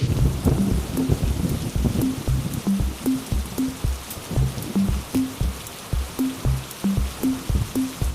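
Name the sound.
rain falling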